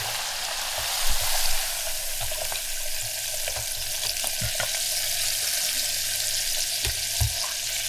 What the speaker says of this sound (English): it's sizzling now, folks. She's a sizzling now.